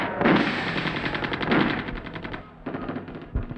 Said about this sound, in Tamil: துப்பாக்கி சத்தம்